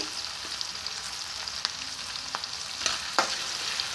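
Spices fry in oil in a pan for khoira fish paturi, a close, steady bubbling sizzle with a few brief sharp crackles and stirring clicks, and no one talking.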